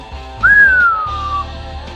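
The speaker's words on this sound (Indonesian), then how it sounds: "Wiro keluarkan satu siulan lagi." One clear, loud whistle rising, then sliding slowly down and fading over about a second, over a soft musical background in a martial-arts audiobook drama.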